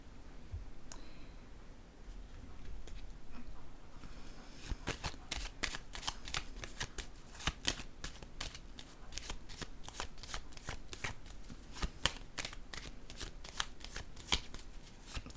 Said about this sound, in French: je vais piger d'autres cartes